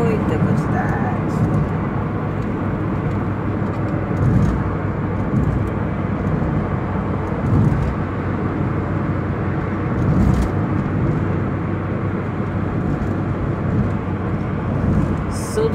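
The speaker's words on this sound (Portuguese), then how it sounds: "Carro, mais carro, carro mesmo, é muita quantidade." Heavy car traffic on highway 040 heading toward Ouro Preto near Nova Lima, heard as a steady, continuous roadside rumble of passing vehicles with occasional louder swells.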